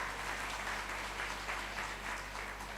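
Audience applause fills a mega show stage event in Bihar, a steady wash of many hands clapping at moderate distance, fairly even in level with no talk over it.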